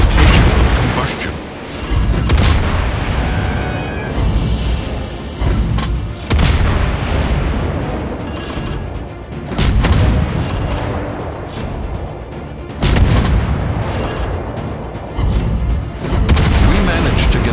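Heavy naval gunfire from a Tier 9 Halford destroyer in World of Warships Blitz, with repeated loud booming salvos and blasts over a dense, continuous battle rumble, while game voice alerts speak over the action.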